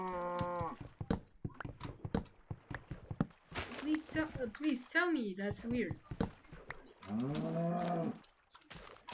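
Minecraft cows moo several times with long, drawn-out lowing calls, while a person talks in between and over the animal sounds.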